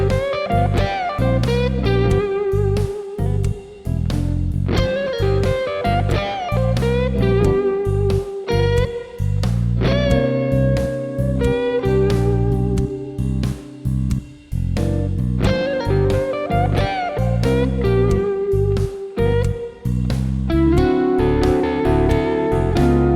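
A blues scale lick on guitar in position 4 rides over a full backing track with steady drums and bass, the lead phrases repeating in loud, even cycles for over twenty seconds.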